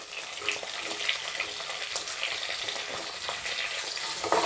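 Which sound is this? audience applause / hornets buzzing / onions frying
onions frying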